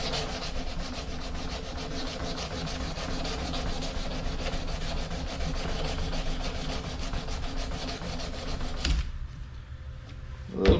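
Sandpaper rubbing along the steel of a hidden tang knife blade, a steady close scratchy rasp of continuous strokes that stops abruptly near the end, followed by a quieter pause and a brief knock.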